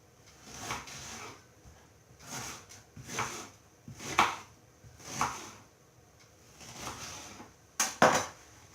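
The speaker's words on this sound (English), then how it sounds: "So chop the onion." An onion is being chopped on a board while a Chinese takeaway-style curry is prepared, a series of about eight separate knife strikes at an uneven, unhurried pace, close by and fairly quiet.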